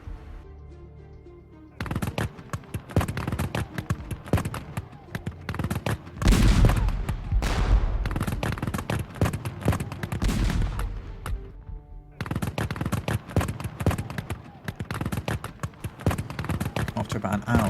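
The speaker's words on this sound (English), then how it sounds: "a fierce musketry duel" Gunfire from a musketry duel in a fictional Seven Years' War battle game, with Prussian and Austrian infantry trading dense crackling volleys in long bursts separated by short lulls and a heavier blast midway, with a narrating voice over it.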